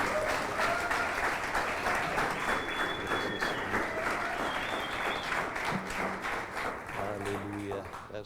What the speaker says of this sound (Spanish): Dele un fuerte aplauso de afecto mientras él viene y nos predica